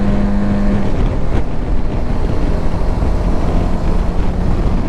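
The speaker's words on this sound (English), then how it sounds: "It is windy as all get out up here." Strong wind buffets the microphone at a high roadside spot on the equator in Ecuador, a loud continuous low rumble with gusty surges, heard during a motorcycle trip on a V-Strom 1000.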